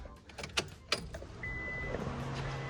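A vehicle's fuel pump primes with a fan running: a few clicks and knocks come first, then a steady electric whine and a low continuous hum, close and moderately loud, with no voices.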